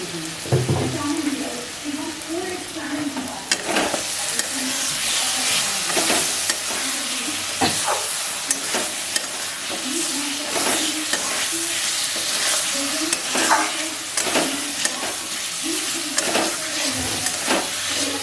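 Spice paste sizzles and fries in a pan for a potato and elephant foot yam curry, with steady close hissing broken by repeated scraping stirs of a spoon throughout.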